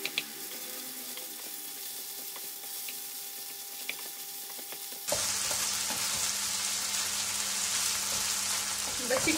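Boneless chicken fries in a pan, a quiet background with light clinks before a loud steady sizzle begins abruptly and continues close by.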